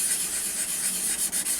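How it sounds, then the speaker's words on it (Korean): Sponge sandpaper rubs over a small wooden miniature dollhouse room box in a steady, close, continuous hiss, with slight dips as the circular strokes change direction. "그 다음에 이렇게 이 지금 사포는 이렇게 스펀지 사포입니다."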